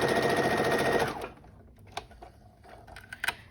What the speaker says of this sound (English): you go over that stitch again. Sew down the elastic.